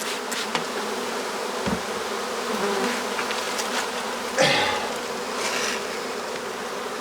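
Dense, steady buzzing of a honey bee swarm close around a hive, a continuous insect drone with passing individual bees flying near, no voices.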